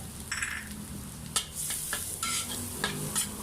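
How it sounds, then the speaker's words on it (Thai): Garlic stir-fried in about a tablespoon of oil over medium-low heat for a Thai garlic-pepper chicken dish, a steady close sizzle broken by scraping spatula strokes, with no voices. "ใส่น้ำมันครับประมาณสักหนึ่งช้อนโต๊ะนะครับ แล้วก็ทำการ ผัดกระเทียมให้หอมนะครับ"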